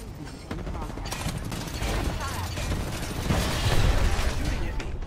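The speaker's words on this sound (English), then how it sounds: "Opening fire" Gunfire in the battle-royale shooter Apex Legends, rapid automatic bursts with mechanical clicks and booms, growing louder toward the end, with a voice speaking over the shooting.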